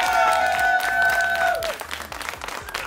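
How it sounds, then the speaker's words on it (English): Audience applause at a televised pitching competition, Nedbank Pitch & Polish, a dense, steady wash of clapping heard close with sustained musical tones over the first part, then the clapping carries on alone. "so another round of applause for them"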